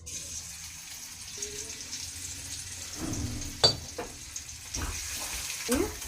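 Ginger-garlic paste sizzling in a little hot oil, a steady soft frying hiss with a few sharper crackles and clinks from stirring in the last few seconds, close and fairly quiet.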